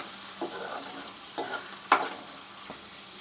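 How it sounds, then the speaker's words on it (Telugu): Egg frying in a pan while being stirred into pieces, with a steady soft sizzle broken by a few brief scraping strokes and one sharper clink, close up with no talking. "ఇది ఒక 2-3 minutes వరకు వేయించుకోండి ఎగ్ని"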